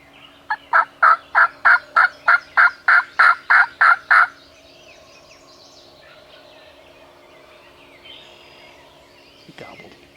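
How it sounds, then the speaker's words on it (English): A wild turkey gobbles in a rapid string of about a dozen loud, evenly spaced notes in the first few seconds, then the woods fall quiet. "He gobbled."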